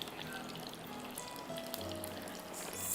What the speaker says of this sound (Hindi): Deep fry on medium heat.